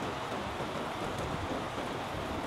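Heavy rain pours down at the Platinum Suites in Kuala Lumpur, a dense, continuous roar of falling water with no breaks and no voices.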